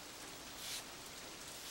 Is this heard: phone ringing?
no